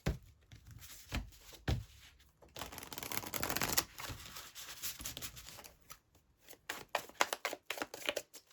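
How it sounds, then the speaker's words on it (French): Hush Tarot cards are shuffled by hand at close range, soft papery riffles and rubbing in irregular bursts, with quiet taps and short gaps between strokes. "Je vais bien mélanger d'abord."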